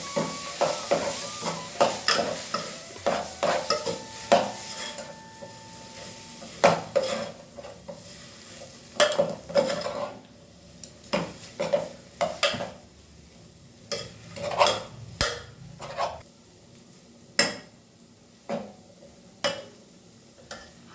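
Precooked schezwan Maggi noodles get stirred in a pan, with repeated scraping and clinking of a utensil against metal in uneven strokes over a faint sizzle, close and clear.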